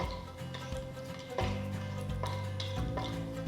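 Whole spices — bay leaf, cloves, cinnamon, star anise and cardamom — fry in melted ghee for a mushroom pulao, giving a soft steady sizzle with a few light stirring scrapes and taps, fairly quiet and close, with no one talking.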